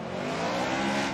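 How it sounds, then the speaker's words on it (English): A Formula Drift race car spins out, engine roaring loud and steady with a continuous tire squeal over roughly a second, close and unbroken. "Matt Field spins"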